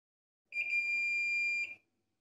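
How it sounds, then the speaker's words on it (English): A multimeter in continuity mode beeps while its probes touch a pair of cables: one steady, clear electronic tone lasting just over a second, starting and stopping abruptly, alone in a quiet room. "you simply measure with your probes on the cables until you hear a beeping sound"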